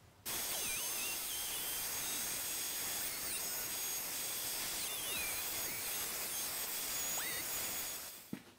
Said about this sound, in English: The router did a good job of cleaning up this edge here where it could follow the fretboard